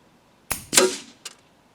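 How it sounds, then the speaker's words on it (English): Air gun firing damaged pellets into ballistics gel: a sharp pop, then a louder cracking impact burst, followed by a fainter short clack, all within about a second, close and alone. "I want to shoot them into some ballistics gel and see what they do."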